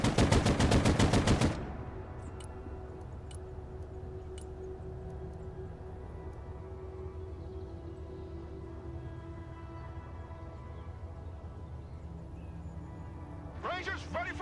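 Gunfire in the modern-war RTS game Broken Arrow: a loud rapid burst of automatic fire up front, then a low rumbling battlefield hum with scattered distant shots and a brief voice near the end.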